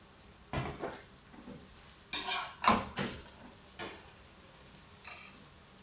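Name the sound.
mixing rice in a pan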